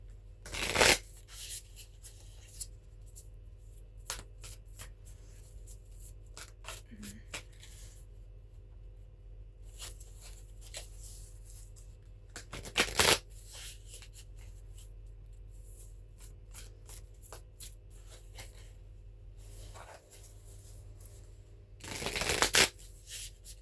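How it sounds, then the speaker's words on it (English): Astrology oracle cards shuffled for a card pull, several sharp, close riffling bursts separated by long quiet stretches of faint handling. "Let's do 1 card pull from the Black Moon Astrology."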